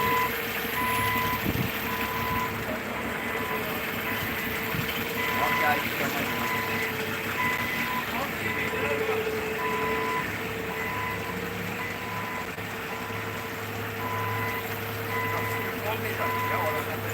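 A tow truck's regular reversing beeps repeat steadily over a constant heavy engine rumble, with shouting voices and outdoor commotion around them.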